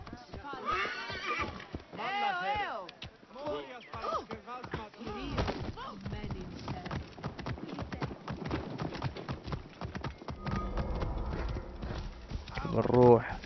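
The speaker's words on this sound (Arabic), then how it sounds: "بنادي الحصان. يا حصان تعال يا حصان" Horse hooves clip-clop in Assassin's Creed Origins, a steady run of hoofbeats mixed with a horse's whinnies and game music, with someone talking over parts of it.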